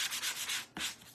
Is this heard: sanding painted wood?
yes